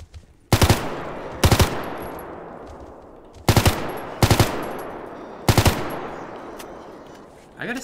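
Gunfire in the video game STALKER GAMMA, heard as five loud bursts of rapid automatic fire in short double or triple cracks, each followed by a fading reverberant tail, spaced irregularly across the stretch.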